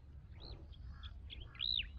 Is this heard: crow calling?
yes